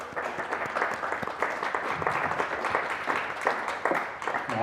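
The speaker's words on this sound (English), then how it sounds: "So round of applause for them." An audience at an evening interview event gives a round of applause for the organizing team, dense, lively clapping from a crowded room that continues steadily throughout.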